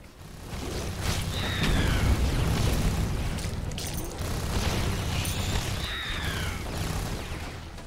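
Explosions blast apart a base wall in The Riftbreaker while the base is under attack. Two heavy, rumbling booms layered with bursts of debris and crackle sustain a loud, dense roar from start to finish.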